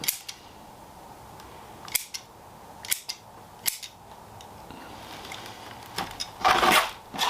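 Pruning shears cut back branches on a Sumo trident maple during potting, sharp snips spaced irregularly over several seconds against faint rustling, close up.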